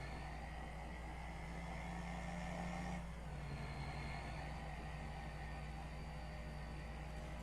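A truck engine in the Farming Simulator 25 video game drones with a steady hum and whine while driving, a shift in tone partway through, continuous and fairly quiet with no talk.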